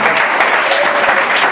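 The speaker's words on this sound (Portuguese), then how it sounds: "Bate as palmas bem forte para Deus." A church congregation claps hard and fast in a dense, continuous roar of applause, loud and close throughout with no pause.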